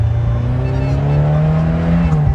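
A 46-year-old car engine held at full throttle, revving loud and close in a brief, steady roar with strong low harmonics that sag slightly just before the end.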